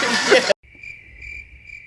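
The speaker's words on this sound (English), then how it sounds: "Are they gonna be chirping in my car?" A brief burst of rustling gives way to steady, pulsing cricket chirps, clear and fairly close.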